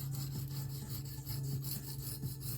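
Small knife sharpened freehand on a Norton India stone: rhythmic scraping strokes of steel across the abrasive stone, repeated back and forth about four times, close and quiet.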